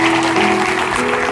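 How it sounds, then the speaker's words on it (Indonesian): Loud, dense clapping from a large crowd fills the space steadily, with a sustained tonal hum running underneath. "Beri tepuk tangan untuk Tuhan Yesus."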